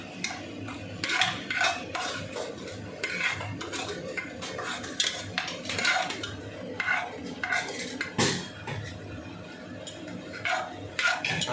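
A spoon scrapes and clinks steadily in a pan while half a spoon of cumin and spices fry in oil for a vegetable biryani, with close, continuous stirring and occasional sharper metal knocks and no talking.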